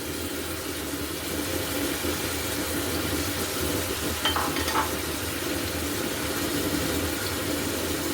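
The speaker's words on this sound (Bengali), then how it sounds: "আমি কিন্তু বিফগুলো দিয়ে দিয়েছি এবার আমি পেঁয়াজ কুচি অ্যাড করে দিব পেঁয়াজ কুচি দিয়ে দিচ্ছি" Chopped onion added to beef frying in a pot for Afghan Kabuli pulao, a steady close sizzle with brief stirring scrapes midway and no talking.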